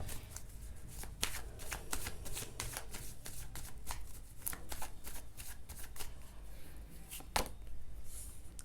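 Tarot cards being shuffled by hand, a steady run of soft riffling and slapping card sounds, close and fairly quiet, with no talk over them.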